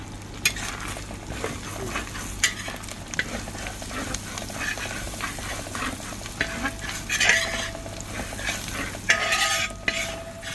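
Garlic and ginger fry in oil left from frying venison for a pickle, a continuous close sizzle with frequent spatula scrapes and clinks against the pan, heard without any talking.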